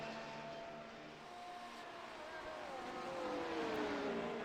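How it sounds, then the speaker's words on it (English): Formula One car engine from a racing video game at the Hockenheimring, a sustained high-pitched whine whose pitch sweeps down and then climbs as the car works through the hairpin, steady and mid-loud, with commentary talk over it. "Listening to that beautiful engine here on these Formula One cars."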